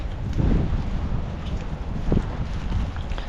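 Strong wind blows on a Russian street, gusting and buffeting the microphone with a loud, uneven low roar throughout.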